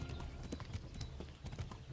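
A horse gallops in the medieval video game Kingdom Come, with rapid, rhythmic hoofbeats drumming steadily at moderate volume, each clop sharp and evenly spaced, alone without speech.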